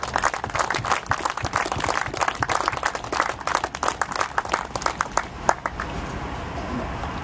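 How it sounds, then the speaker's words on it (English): An audience joins in clapping at a rail safety talk, a dense, irregular patter of many hands filling the room at moderate loudness, thinning slightly toward the end. "would you just clap your hands with me?"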